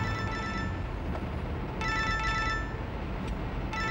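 Telephone ringing in a Turkish drama household, repeated bell-like bursts in a steady rhythm over constant background hiss, fairly close and moderately loud, with no talking.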